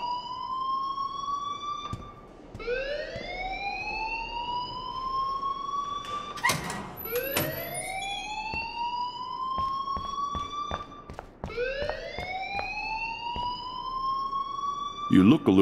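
An alarm in the video game Life is Strange wails in long rising sweeps that repeat every few seconds, with a brief burst of clatter midway through.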